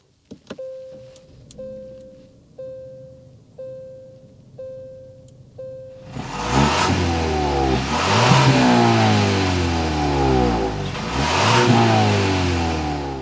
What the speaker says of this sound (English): start it up so you can hear that exhaust note